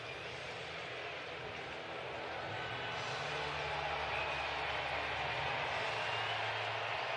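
A steady, broad crowd murmur fills a baseball stadium at a Phillies vs Mariners night game, a constant wash of distant voices and ambient noise without distinct words.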